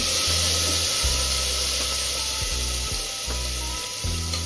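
Onions and spices fry in a pan with a continuous loud sizzle and hiss, broken by a few soft stirring knocks, with no talking.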